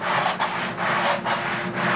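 Rhythmic back-and-forth rasping of a sanding block on wood, four or five long strokes, close and steady with no talking.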